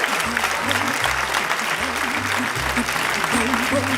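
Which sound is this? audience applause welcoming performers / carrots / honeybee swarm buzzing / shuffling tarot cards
audience applause welcoming performers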